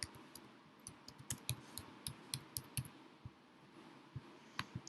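Typing on a computer keyboard while entering a label into a spreadsheet chart, giving irregular light clicks and taps close by, quiet and scattered over a few seconds with no talking.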